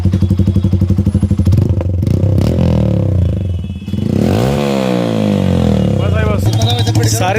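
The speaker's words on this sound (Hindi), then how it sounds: "हल्की सी अगर रेस दे दो, एक बार दोबारा रेस देना।" A Hero Passion Pro BS6 2022 motorcycle with a modified aftermarket exhaust idles with a steady, close-up thumping beat, then the throttle is blipped for a rising rev that falls back to idle. Voices talk over the engine.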